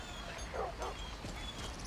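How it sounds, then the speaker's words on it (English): A dog in Skyrim's Riverwood gives a couple of short, soft barks or yips, faint and close together, over a steady low outdoor ambience with no talking. "Dog."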